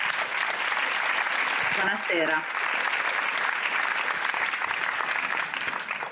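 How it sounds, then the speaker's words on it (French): A seated audience at a forum panel on feminist and LGBTQIA+ resistance against fascism claps steadily throughout, and a speaker gives a brief greeting over the applause. "Je vous prie aussi d'applaudir"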